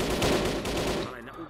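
A short, dense burst of rapid gunfire from a weapon in the video game El Matador, loud and continuous before cutting off into a fading tail.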